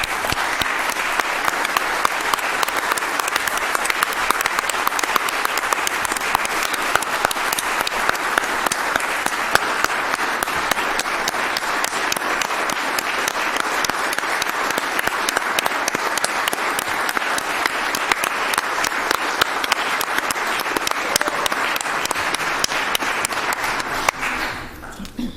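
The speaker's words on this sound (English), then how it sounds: "I'd like our public safety team to stand up for one more round of applause" A council meeting audience gives a sustained round of applause for the city's public safety team, steady and dense clapping filling the room for about 25 seconds before tapering off at the very end.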